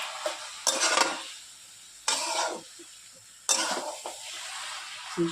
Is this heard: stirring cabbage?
yes